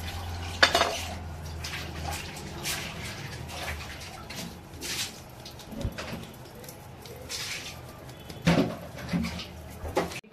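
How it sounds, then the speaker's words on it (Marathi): Wheat flour being sifted in a bowl in a home kitchen: soft, continuous scraping and shaking with scattered light clinks of metal against the bowl, fairly quiet and close. "तसं चाळून घेते."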